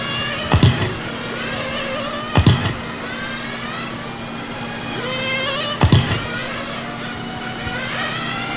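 Radio-controlled race cars at a charity race event whine along a straightaway, with several loud, sharp bursts as they pass close by between stretches of steady motor drone.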